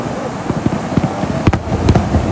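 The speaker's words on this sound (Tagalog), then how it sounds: "Fireworks." Fireworks go off at night near a fishing spot, a series of sharp pops and bangs at irregular intervals over a background hum, with faint voices in between.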